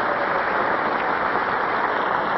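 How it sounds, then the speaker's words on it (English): Steady, full studio audience applause on the 1980 syndicated Match Game set holds at an even loudness, a dense wash of clapping with no voices over it. "Applause."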